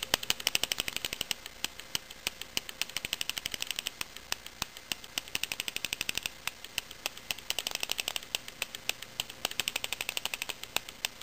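A Bob Long G6R paintball marker fires semi-automatic with ramping, sending out a rapid, steady stream of sharp clicking shots for about eleven seconds, close by, with brief pauses between bursts.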